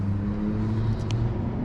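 An electric BMX scooter motor running in second gear gives a steady, close, low whirring hum with a faint whine on top as it rides along.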